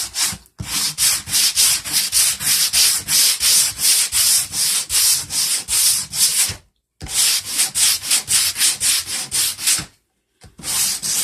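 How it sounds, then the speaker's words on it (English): Steady back-and-forth rasping of sandpaper by hand on a wooden cabinet door, rhythmic strokes close up, with two brief pauses and no talking. "we'll just get sanding. And you just sand wherever you want it."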